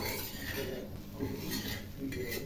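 A petai paratha is flipped in a frying pan. Light clinks and scrapes of a utensil against the pan sound over a steady frying sizzle, close by.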